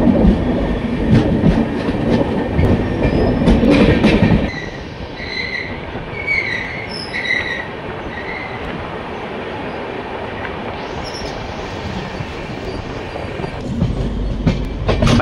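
A Sathavana Express LHB passenger train running on rails near Secunderabad, loud rumbling wheels and clickety-clack easing into a steadier roll with high squeals of wheels, then growing heavier again toward the end.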